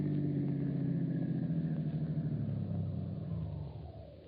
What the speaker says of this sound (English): Turn into the workyard and park in our garage.